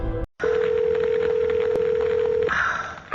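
A steady, unbroken telephone tone sounds for about two seconds, loud and close, with a short click before it. The tone stops abruptly and a brief burst of line noise follows.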